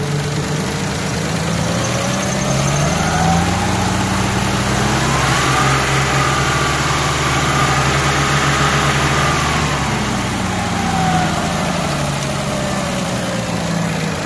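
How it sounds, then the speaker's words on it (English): A 1967 turbocharged Camaro fitted with a GM HEI large-cap distributor and Holley timing control revs up from idle, the engine note rising and swelling loud and close, then easing back down to a steady rumble. "and let's rev again"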